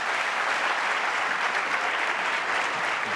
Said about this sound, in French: Veuillez, s'il vous plaît, l'applaudir.